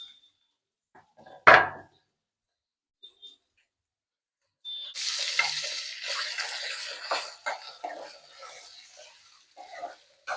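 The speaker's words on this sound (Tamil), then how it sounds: "இந்த கட் பண்ணி வச்சிருக்க உருளைக்கிழங்கை தூக்கி உள்ள" Cut potato pieces drop into hot oil with a sharp splash, followed by a few seconds of quiet and then a steady, close sizzle and crackle of frying that rises and falls.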